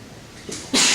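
A single sharp, loud sneeze bursts out nearby during a quiet classroom lecture on thermodynamics, preceded by a faint intake of breath.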